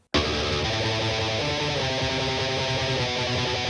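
Loud, saturated electric guitar, recorded with a 201 mic, churns out a fast, thick metal riff with constant gritty distortion, close and full, with no one speaking.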